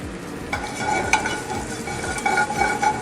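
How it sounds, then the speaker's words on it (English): Applewood smoked bacon with some fat left on sizzles and crackles steadily in a pan, a dense continuous fry with light stirring and utensil clinks layered over it. "We have some applewood smoked bacon here. We're going to throw it in our pan."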